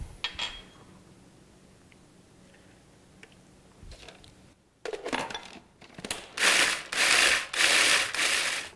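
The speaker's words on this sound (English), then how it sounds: "crushing some chocolate wafers into the bowl of my food processor, along with a little bit of cinnamon and some melted butter" A food processor crushing chocolate wafers with cinnamon and melted butter: quiet handling and clatter at first, then several loud, sustained whirring grinding pulses close by.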